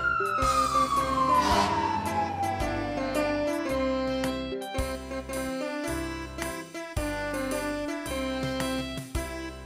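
Takara Tomy Tomica toy fire engine sounding an electronic siren, a falling wail giving way to a repeated two-tone warble with bright jingling overtones, loud and close, running steadily with no voices.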